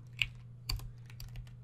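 A few scattered computer keyboard keystrokes, soft and close, set apart by short pauses over a steady low hum, with no speech.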